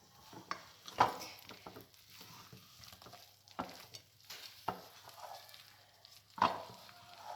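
A spoon scrapes and stirs soda bread dough in a bowl, with soft intermittent strokes and a few sharper knocks against the bowl, quiet and close.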